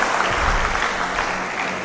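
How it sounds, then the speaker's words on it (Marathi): A seated audience of students who have passed 10th and 12th grade claps together at a guidance lecture, a steady, even wash of applause lasting the whole stretch. "त्यांच्यासाठी एकदा मनातून का टाळ्या वाजवा"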